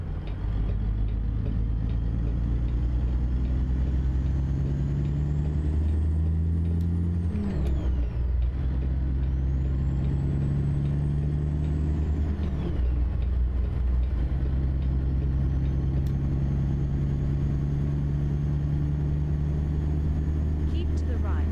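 A truck in American Truck Simulator pulls away in seventh gear, its engine droning low and steady with gradual pitch shifts and a brief dip midway, heard close with no voices.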